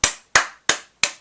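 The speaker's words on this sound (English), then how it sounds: "I'll give them a few claps." Four sharp hand claps, evenly spaced about a third of a second apart, each a bright crisp burst with a quick decay, close and fairly loud with no other sound between them.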